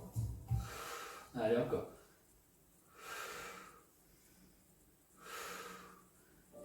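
Slow, deep breaths in and out during a Pilates exercise: about four audible breath cycles, close and soft, with an instructor speaking briefly at the start.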